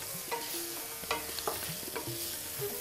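Spices and potatoes fry in a pan with a constant close sizzle, broken by several scraping stirs of a spoon against the pan; no voices are heard.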